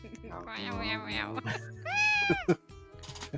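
A cat meows in the video game Piofiore: Fated Memories, giving one drawn-out, rising meow near the middle that is loud and close, surrounded by voiced game dialogue.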